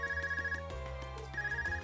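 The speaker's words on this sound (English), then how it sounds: "Is that your Arcus ring?" An Arcus device in the game Trails of Cold Steel rings with a bright trilling ringtone, two warbling bursts separated by a short pause, over a low in-game music bed.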